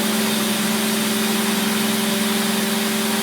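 A V2010 pump engine runs with a steady, loud, close mechanical drone and constant hum throughout; no clear drop in engine speed stands out.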